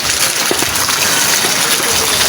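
Strong wind drives heavy rain in a storm, producing a loud, steady wash of gushing rain with faint spattering drops, close and continuous.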